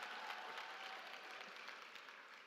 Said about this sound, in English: Colleagues, can you give them a round of applause, especially you?